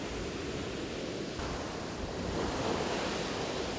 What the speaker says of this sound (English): The waves that repeatedly surrender at the reverent feet of the saintly rock.